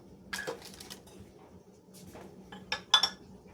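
Spatula scraped and tapped against a mixing bowl while making cookies from an 1896 Fannie Farmer recipe, with shortening on the blade; a few light clinking scrapes come close and alone, ending in two sharper knocks.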